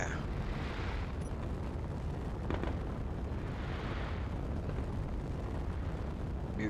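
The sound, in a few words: fireworks exploding in video game Space Engineers (modded)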